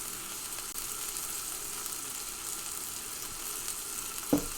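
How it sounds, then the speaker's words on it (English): Burger patty frying in a dry cast iron pan, a steady, soft, even sizzle heard close with no talking, ending in a single small clatter. "I would throw this into a dry cast iron pan"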